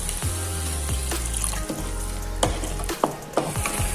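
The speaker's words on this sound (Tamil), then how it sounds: "சேர்த்துட்டு கொஞ்சமா தண்ணி ஊற்றி இதை நல்லா எல்லாத்தையும் வேக வச்சுக்கலாம்" Onion-tomato masala with cashews simmers in a pan after a little water is added, a steady sizzle and bubbling with occasional scrapes and knocks of a spoon stirring against the pan.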